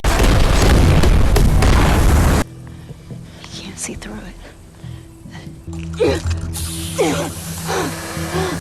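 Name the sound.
explosion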